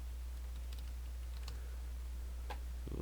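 Faint, sparse keystroke clicks on a computer keyboard sit over a steady low electrical hum, quiet and close with no voices.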